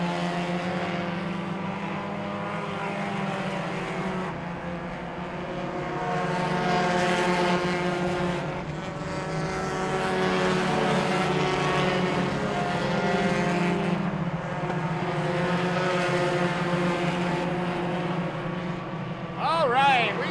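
Stock race cars come off turn four in a tight pack of three near the end of a race, their engines a steady droning roar that swells and fades as they sweep past.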